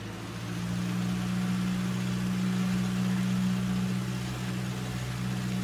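Simulated Cessna 172 piston engine held at 1800 RPM during a pre-flight run-up, a loud, steady droning hum with a strong low tone that barely wavers throughout, no voices.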